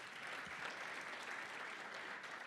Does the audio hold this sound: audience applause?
yes